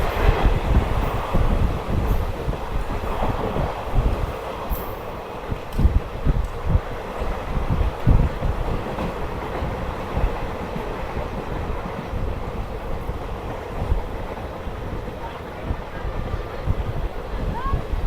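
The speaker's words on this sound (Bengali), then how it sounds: "আমাদের ট্রেন আলিপুরদুয়ার প্যাসেঞ্জার এখন চলে এসছে নিউ গীতালদহ হল্টে" The Alipurduar Passenger train from Bamanhat runs steadily toward New Gitaldaha halt, a continuous rumbling rattle of wheels and carriages heard from on board with steady clatter throughout and a voice talking over it.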